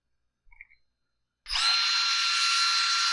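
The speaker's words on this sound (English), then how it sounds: "Now I'm going to put the two bottom screws in." A power driver runs screws into a Husqvarna 435 chainsaw during repair, a brief handling knock and then a steady high-pitched whirring motor that starts abruptly and holds close and loud to the end.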